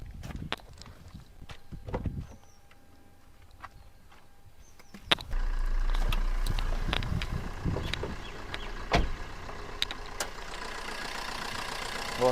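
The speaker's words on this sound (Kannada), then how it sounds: "ಇಂಜಿನ್ ಸ್ಟಾರ್ಟೇ ಮಾಡಿ ತೋರಿಸ್ತೀನಿ ನೋಡಿ" A used car's engine starts with a sharp burst, then settles into a steady, low idle that runs continuously, with a few clicks and knocks on top.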